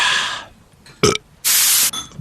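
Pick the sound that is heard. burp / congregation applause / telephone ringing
burp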